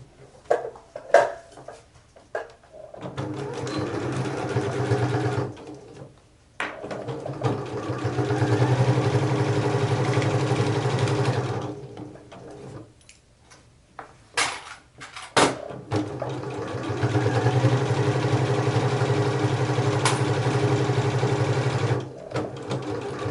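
A sewing machine stitches the side seams of fabric wine bags in two long steady runs, close and clear, separated by short pauses with light handling clicks and no talking.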